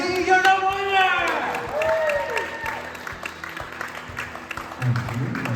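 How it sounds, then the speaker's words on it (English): A crowd applauds and cheers a car giveaway winner at a Dream Giveaway event, with loud whooping voices over steady clapping that thins out and then swells again near the end. "Let's give him a big round of applause."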